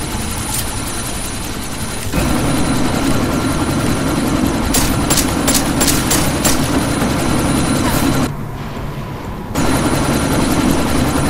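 A helicopter in the video game Deus Ex: Mankind Divided drones with a loud, continuous rotor and engine roar, briefly dropping in level twice before surging back, with sharp bursts of game noise layered over it.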